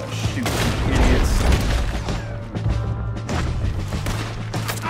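Dense, continuous gunfire rattles in the video game Red Dead Redemption 2, with overlapping shots and booms forming a loud, sustained barrage close by.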